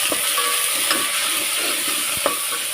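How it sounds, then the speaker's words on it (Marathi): Eggplant, potato and fish fry loudly in a pan for a Marathi-style curry, with a constant close sizzle. A few short scrapes and clinks come from stirring. "वांगी बटाट आणि खरा टाकता आहे मच्छी इथे मी टाकून घेतले"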